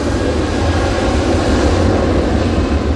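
A Ryanair airliner taking off for Dublin, heard as a loud, constant deep engine roar with broadband rumble, close and steady, without talk.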